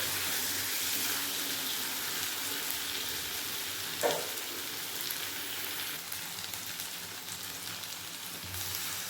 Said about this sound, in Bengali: এরপর আমি এর মধ্যে দিয়ে দেবো গরম জল